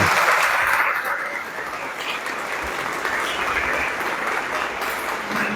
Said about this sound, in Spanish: vamos a darle un fortísimo aplauso a Jesucristo